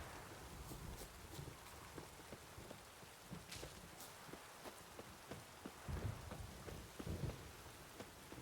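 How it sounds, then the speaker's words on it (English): Steady rain falls in The Witcher 3, a soft continuous patter with scattered drips and faint low rumbles of distant thunder, heard alone and quietly. "Let it rain."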